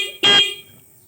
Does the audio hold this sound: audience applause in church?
no